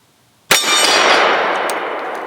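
A Ronin 10mm pistol loaded with hard cast lead ammunition fires one loud, close shot that cracks suddenly, then rings out in a long, slowly fading tail.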